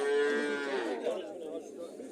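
A male calf lowing at a livestock market in Kitob, a single long moo that starts strong and close, then trails off into crowd noise.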